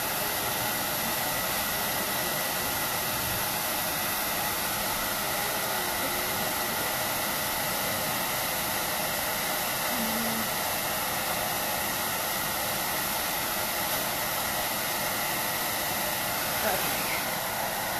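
A hand dryer blowing hot air to dry screen printing ink on a T-shirt, a loud, steady, unbroken whoosh lasting the whole stretch.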